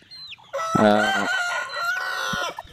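A free-range rooster crows loudly close by, a long strained call, with hens clucking softly around it.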